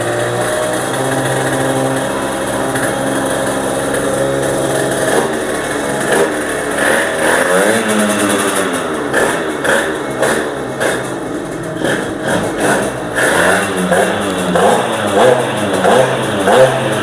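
A Minarelli scooter engine fitted with a Stage6 racing pulley revving repeatedly, a buzzy high-pitched whine rising and falling in close, loud bursts.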